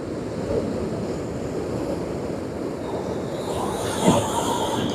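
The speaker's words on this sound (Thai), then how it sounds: "ตอนนี้อยู่ที่ทะเลภูเก็ตมีคลื่น" Sea waves at a beach in Phuket, Thailand, make a steady, broad rushing wash that is loud and continuous, with wind buffeting the microphone and a slightly stronger surge near the end.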